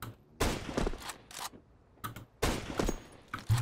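Gunfire in Counter-Strike 2, a few sharp bursts of shots separated by brief pauses, fairly close, with no talking.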